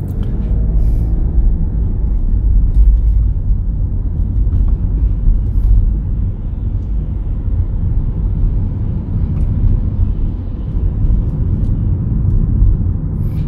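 A car engine rumbles low as the vehicle pulls away and drives on steadily during a road driving test in Dobong, Seoul, with road noise throughout and no speech.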